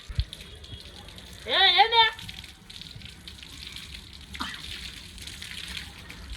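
Water splashes and gushes steadily as children play on a home terrace, with a child's shrill cry and other voices nearby.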